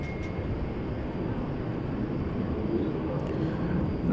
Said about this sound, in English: here comes that 777 freighter that we talked about